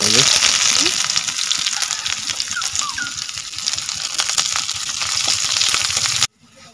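Onions frying in hot oil in a pot for a goat head curry, a loud dense sizzle with crackles and faint bird chirps in the background, cutting off abruptly at the end.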